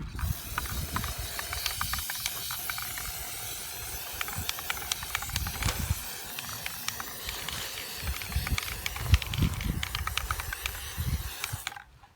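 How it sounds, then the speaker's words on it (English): Spray paint can spraying found objects inside a box for an assemblage sculpture, with repeated short hissing bursts alongside scattered clicks and rattles from the can, close and fairly quiet. "And then you're gonna spray your objects inside."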